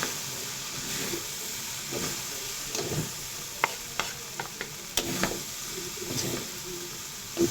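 A spatula stirs fresh lumpia filling of carrots and jicama in a sizzling pan, with a steady hiss of frying and intermittent scraping and tapping against the pan.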